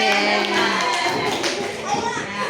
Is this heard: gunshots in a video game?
no